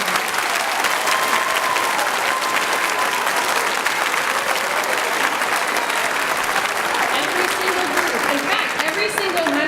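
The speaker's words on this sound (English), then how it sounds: "Can we have a huge round of applause for ourselves?" A middle school orchestra audience applauds at a spring concert, steady dense clapping filling the room from start to finish, loud and continuous with faint voices mixed in.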